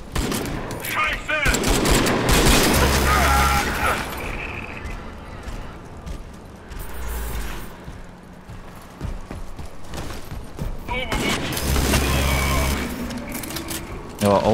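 Crysis 3 gunfire comes in loud rattling bursts at the start and again near the end, while someone talks through much of the clip.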